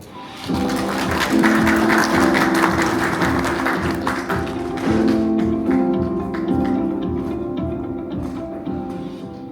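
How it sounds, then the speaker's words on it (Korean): An audience applauds to welcome presenters at an electric-car tech talk, a dense, steady clapping that swells in after a moment and holds for about nine seconds over sustained background tones, easing off slightly toward the end. "박수로 맞이해주세요"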